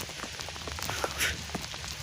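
Soft rain pattering on a surface, with scattered drops tapping irregularly over a quiet, steady hiss.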